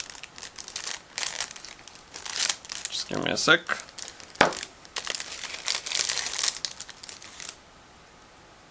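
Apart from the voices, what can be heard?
cutting open sealed plastic bag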